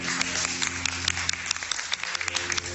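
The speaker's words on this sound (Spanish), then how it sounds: "Un aplauso, por favor." Audience applause, a dense, steady patter of many hands clapping at an even level for a few seconds, with no voices over it.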